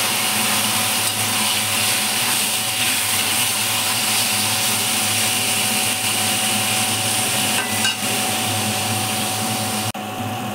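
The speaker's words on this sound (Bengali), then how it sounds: "এবার দিয়ে দেবো আমি মেখে রাখা মাছগুলো।" Marinated small fish fry in hot oil with dry chilli and fenugreek, making a loud, continuous sizzling hiss that holds steady throughout and ends with a soft clunk.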